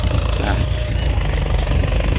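A Ford 6610 tractor ploughing a field runs with a steady, loud, low engine rumble and a constant drone throughout, close by and with no pauses.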